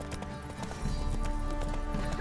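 A horse gallops in The Witcher 3 video game with steady, close rhythmic hoofbeats that grow louder partway through, and there is no talking over them.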